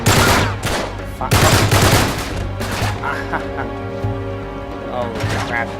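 Sniper gunfire and rapid shooting in Uncharted 3, loud dense bursts of shots crackling in quick succession, then thinning into scattered reports over a lingering ringing background.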